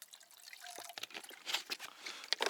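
A short splash of water poured into a cooking pot over a campfire in a forest, with bright trickling and dripping sounds, close and fairly quiet, no voices.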